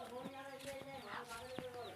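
Chickens cluck and call close by in rural Tamil Nadu, with short bursts over a steady outdoor background and some voices mixed in.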